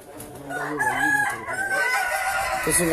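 A rooster crows loudly and close by, one long sustained call that fills the whole three seconds with no other sounds around it.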